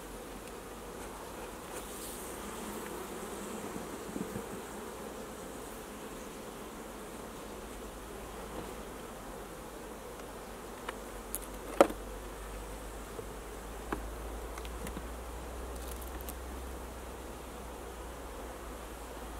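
Honeybees hum steadily around a young beehive with only a few bees, a soft continuous buzz close by with occasional faint clicks and no talking.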